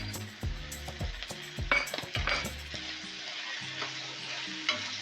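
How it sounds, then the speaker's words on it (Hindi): Pieces of liver fry with ginger garlic paste in a pan, a steady sizzle broken by clattering spoon strokes against the metal as the mixture is stirred, with no talking. "अब इसके साथ ही हम लहसुन अदरक का पेस्ट शामिल कर लेंगे। इसके साथ इसकी भुनाई करेंगे 2 से 4 मिनट"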